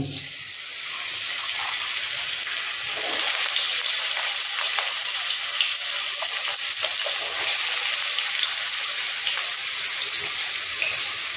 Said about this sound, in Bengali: উচ্ছেটা আগে একটু বেশ ভালো করে লাল লাল করে ভেজে নেব